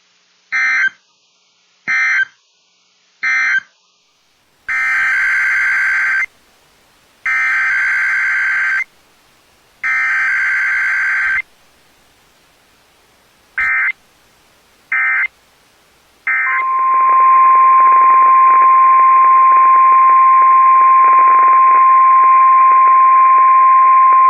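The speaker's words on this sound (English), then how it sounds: "The attention signals you just heard will automatically activate special receivers" NOAA weather radio warning alarm attention signal test: a series of loud, buzzy two-tone beeps in short and longer bursts, followed by a long sustained steady tone.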